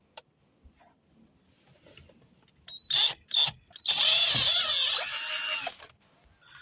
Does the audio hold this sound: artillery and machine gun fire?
no